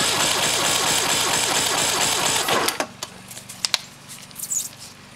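A carbureted 2005 Mercury 200 XL outboard cranks with a compression gauge fitted to the right bank top cylinder, giving a loud, steady, rhythmic chugging for about three seconds before stopping, followed by a few faint clicks.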